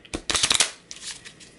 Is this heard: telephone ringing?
no